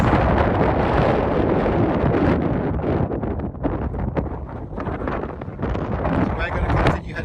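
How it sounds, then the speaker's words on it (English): Strong wind buffeting a microphone on the open moorland tops at Buttertubs Pass, a loud continuous roar with gusty surges, while someone speaks briefly under the noise. "Very windy on the tops here"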